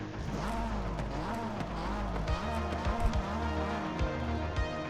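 A 3.8-litre flat-six twin-turbo engine in a #92 Porsche 911 RSR in Forza Horizon 5 revs up and down steadily, the pitch rising and falling repeatedly, with some brief tyre noise.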